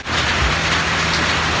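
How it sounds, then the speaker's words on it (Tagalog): Heavy rain pours in a constant loud hiss, unbroken throughout, with no voices. "So, grabe nga yung ulan."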